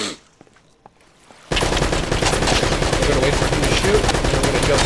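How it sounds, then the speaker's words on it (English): Enemy gunfire in the video game Uncharted, at the fortress: after a quiet stretch with faint scattered sounds, loud sustained rapid shooting breaks in and keeps going without a pause. "I'm gonna wait for him to shoot"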